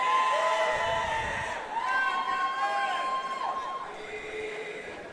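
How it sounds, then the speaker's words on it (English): A crowd at an MMA fight cheers and shouts steadily, with raised voices and whoops carrying over a constant roar throughout. "Crowd seems to be in favor of Cameron."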